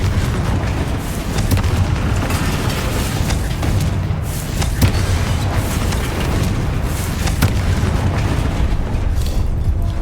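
Confringo blasting-spell explosions in the video game Hogwarts Legacy, heavy rumbling booms with sharp bursts layered over a loud, continuous low roar of battle.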